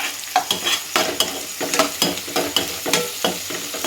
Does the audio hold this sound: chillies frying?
yes